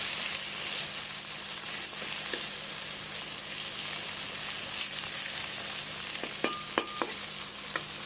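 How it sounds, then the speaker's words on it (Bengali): Cut ridge gourd frying in hot oil in a pan, a steady close sizzle with a few light clinks of utensils near the end. "ঝিঙেগুলোকে আমি কেটে নিয়েছিলাম, এই যে এবার আমি তেলের মধ্যে ভেজে নেব।"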